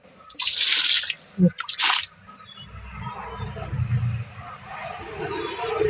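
Homemade organic slurry fertilizer is poured onto leafy vegetable seedlings in a kitchen garden: a few splashy liquid gushes at the start, then a softer, uneven trickle and patter of liquid soaking into soil, close by.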